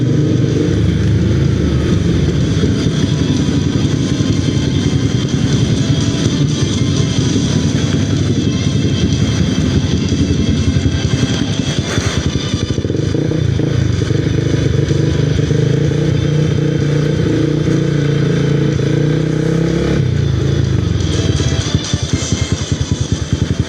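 A Honda CBR250R motorcycle on a long ride in rainy weather, its engine a steady, loud droning hum mixed with rushing wind noise, holding fairly even throughout with slight shifts in pitch and no talk.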